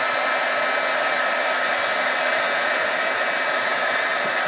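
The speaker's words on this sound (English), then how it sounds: "all you have to do is just bring your heat gun in and for a few seconds and you'll flatten it out" A heat gun blows hot air steadily and loudly at close range while flattening a paper card piece, a continuous broadband whoosh with no breaks and no talking.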